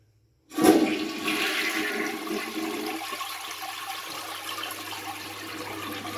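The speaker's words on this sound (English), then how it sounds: "Did a double flush." A 1970s Wessan (Crane) Calypso toilet on a 1980 American Standard tank flushes with a sudden loud rush of water that settles into a steady refilling hiss and trickle, close and alone.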